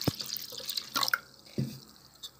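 A small amount of water is poured into a dessert mixture, giving a few faint splashes and drips that are fairly close and quiet, with no talking.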